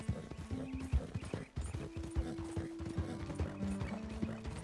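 Hoofbeats clip-clop steadily as a horse is ridden through the wilderness in Red Dead Redemption 2, with brief tonal game-sound touches over a dull background rumble and no talking.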